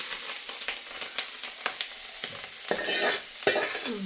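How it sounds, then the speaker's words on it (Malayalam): Cooked clam meat stirred in a frying pan: close, repeated scraping strokes of a spoon against the pan over a steady sizzle, with no talking. "ആ വേവിച്ച് വെച്ച് അത് നമ്മൾ ഇനി ചട്ടിക്കത്തിട്ട് ഇടാൻ പോവാം"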